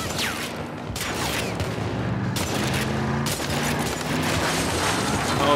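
Sustained automatic gunfire during a firefight in The Last of Us Part II, a dense steady clatter of shots over rumbling game ambience with repeated sharp bursts, loud and continuous throughout.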